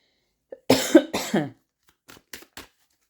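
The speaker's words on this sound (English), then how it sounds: "And notice I'm coughing as well." A person coughs twice in a harsh burst, then gives a few small, quieter coughs, close to the listener with silence in between.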